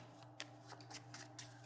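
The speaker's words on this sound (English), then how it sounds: "Take your cards, shuffle them up. I will shuffle mine." A deck of playing cards being shuffled at a table, a quick run of crisp riffling bursts with short pauses between them, close and fairly quiet.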